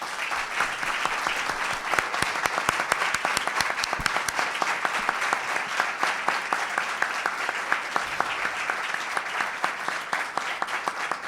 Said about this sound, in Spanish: Y les pido un aplauso.